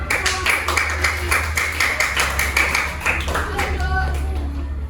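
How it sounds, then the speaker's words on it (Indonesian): A fifth-grade class claps together in a classroom, a loud, fairly rhythmic burst of many hands that trails off near the end, with some voices underneath. "Berikan dulu tepuk tangan buat"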